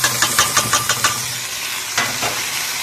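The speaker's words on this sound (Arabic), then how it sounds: "ادي شعريه اتحمرت، هننزل بالرز اللي انا غسلاه اهو ومصفياه" Vermicelli fries in a pan with a bright, crackling sizzle, joined early on by a run of quick rhythmic scraping strokes, then a steady frying hiss beneath a low hum.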